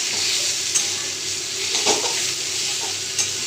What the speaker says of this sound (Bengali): দিয়ে এটাকে ভালো করে ভেজে নেবো এর সঙ্গে